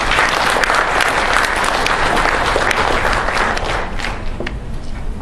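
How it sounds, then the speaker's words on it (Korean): An audience at a Seoul design discussion forum applauds to welcome a speaker, with dense, loud clapping that fills the room and then eases slightly toward the end. "큰 박수로 환영해 주시면 감사하겠습니다"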